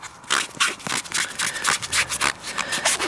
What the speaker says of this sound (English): Just rub it in with your fingers.